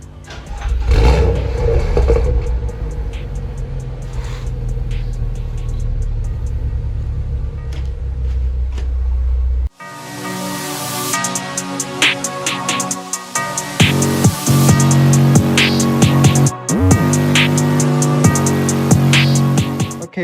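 A BMW M135i LCI (F20) fitted with M-Performance exhaust tips and a diffuser, its engine rumbling at idle, then revving loudly in repeated bursts with crackles between. Close, with no talk.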